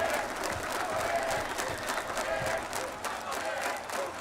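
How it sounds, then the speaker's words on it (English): A large indoor esports arena crowd at the RE:L0:AD Rio 2025 finals roars and applauds steadily, a dense wall of cheering and clapping that holds loud throughout. "And the crowd's starting to get on the side of W7M"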